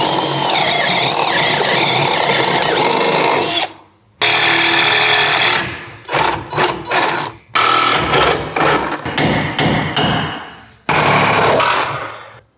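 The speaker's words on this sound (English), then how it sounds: "I think I'll drill a hole in it." A power drill whines loudly and steadily while drilling into spot-welded car metal on a Lada, stops briefly, then bores again in several short bursts and pauses before a final sustained run.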